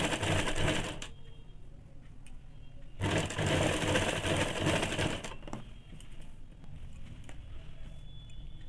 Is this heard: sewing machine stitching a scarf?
yes